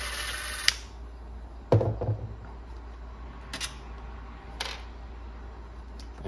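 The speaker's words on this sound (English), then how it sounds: "Take out the last screw." Screw being removed from the cage of a Cerwin Vega CVA 28 powered speaker during repair: a few short metallic clicks and taps close by against a quiet background hum.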